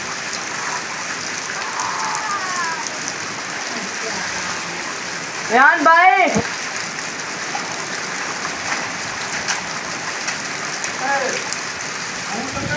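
Heavy stormy rain pours steadily over a village, a dense continuous hiss throughout with a brief burst of voices talking near the middle.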